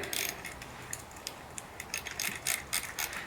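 A ratchet tightens the rear axle of a Yamaha XS650 motorcycle, quick clicking pawl strokes in short uneven bursts, close and fairly quiet with no speech.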